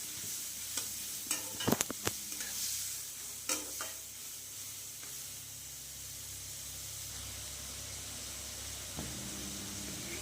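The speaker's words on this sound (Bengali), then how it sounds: "লবণ দিয়ে সিদ্ধ করে রাখা চিচিঙ্গিগুলোকে দিয়ে এর সাথে ভালো করে একটু ভাজা ভাজা করতে দেবো" Boiled ridge gourd sizzles steadily in a hot pan while a utensil scrapes and clacks in a few quick bursts of stirring.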